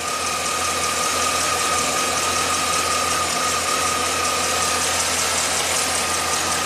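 A 2009 Chevy 3500HD engine with 421k miles runs rough and loping up close, a loud continuous mechanical roar with a steady high whine and no other sounds.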